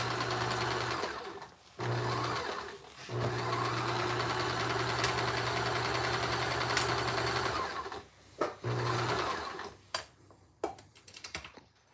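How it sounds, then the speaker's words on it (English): Sewing machine stitching across puppet fabric, a steady close mechanical whir with a rapid needle chatter in several long runs broken by short stops, ending in a few isolated clicks and handling noises. "Machine stitch that across."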